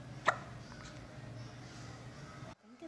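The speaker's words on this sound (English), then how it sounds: "Yeah, the hiccups." A single sharp hiccup, close and fairly loud, stands out once near the start against a low steady hum in a teddy bear museum, with no talking.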